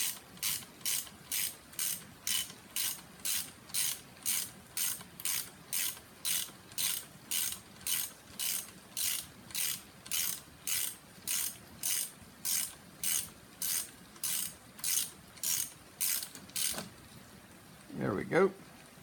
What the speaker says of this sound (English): go ahead and remove this bolt here